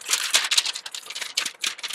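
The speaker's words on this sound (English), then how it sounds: "Listen to the paper and scrunch the paper." Paper crinkles and crackles up close in quick, irregular bursts, loud and dry, with short pauses between handfuls of scrunching.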